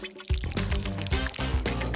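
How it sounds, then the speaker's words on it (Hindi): Thick aloe gel pours steadily into a blender close by, a continuous gurgling flow with a few soft splashes and no voices. "इसमें से जितना भी जेल होगा वो सारा ब्लेंडर में चला जाएगा।"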